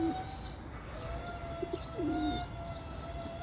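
Soft pigeon coos rise from a steady outdoor background, a few low murmuring calls spaced apart with faint chirps nearby.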